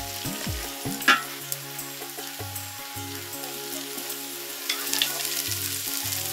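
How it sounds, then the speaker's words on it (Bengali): Green chillies splutter and crackle in hot oil near a lakeside outdoor cooking spot, a loud burst of popping and sizzle with a steady low hum running underneath. "কাঁচামরিচ ফুটবে না, ফুটবে, দূরে থাকবো।"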